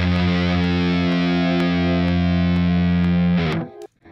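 Reversed distorted electric guitar chord swelling steadily for about three and a half seconds, processed with effects, then cutting off abruptly into near silence.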